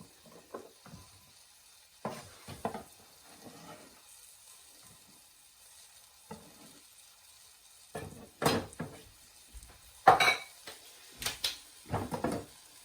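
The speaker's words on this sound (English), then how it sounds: "You can hear it sizzling, which is a good sign." A mushroom risotto base sizzles faintly in a pan under soft background noise, broken by several sharp clatters and knocks of utensils and cookware that grow louder and more frequent toward the end.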